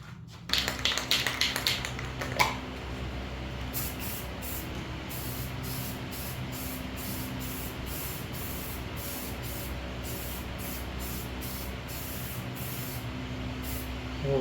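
An aerosol spray can lays a light dust coat of paint on car rims, with rapid rattling clicks at the start followed by a long, steady hiss that pulses in short bursts, close and alone.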